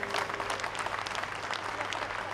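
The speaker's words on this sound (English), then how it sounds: "Big round of applause." Audience applause fills the space at the opening of a new college campus, a dense, steady wash of many hands clapping throughout with a low hum underneath and no speech.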